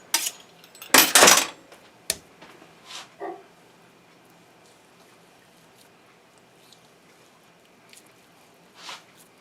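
A knife cutting beef into cubes for Wisconsin tavern-style hot beef: a few sharp close chops and clatters on the board early on, then mostly quiet with faint scattered taps.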